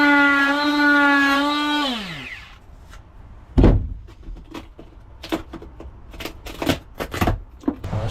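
Soft, water-damaged ceiling trim being pulled and stripped away inside an RV, heard as scattered close tearing, scraping and cracking bursts after a droning tonal sound fades out in the first seconds.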